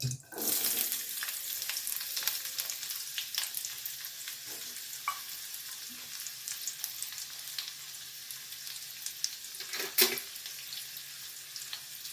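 Small red shallots frying in ghee in a hot pan, a close, steady crackling sizzle with scattered pops and occasional stirring clinks, one sharp louder spatter around ten seconds in.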